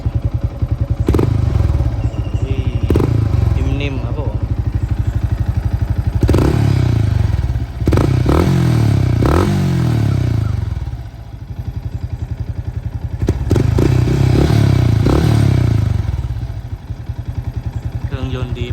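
A 2023 Yamaha XSR 155 motorcycle engine idles with a deep rumble, then revs up sharply in several repeated bursts, loud and close, with talking over parts of it.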